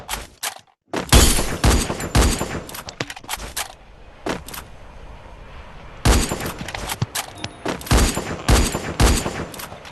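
Rapid bursts of automatic gunfire in the Free Fire video game, dense cracking volleys in two long clusters with a quieter gap between, loud and close.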